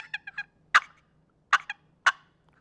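Soft, short turkey clucks imitated with a hand-held turkey call, a few quick notes in a loose series with gaps between them, close and clear with no talking.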